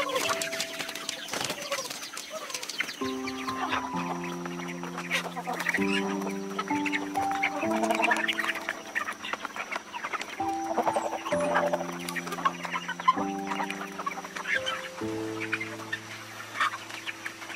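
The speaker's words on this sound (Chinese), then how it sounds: "来到禽舍把家禽喂养了一下。 打开围栏的瞬间，骑兵争相恐吓的场景好热闹。" Farmyard ducks and chickens clamour at feeding time, loud overlapping quacks and clucks in a continuous busy chorus with repeated calls close by.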